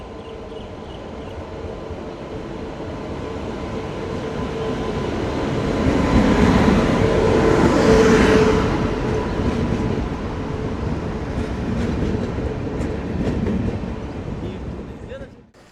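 A passenger train on the Dooars line, running through forest, rolls slowly into a station. Its rumble swells to a broad roar and then eases, with a rhythmic clatter of wheels, and the sound is moderately near.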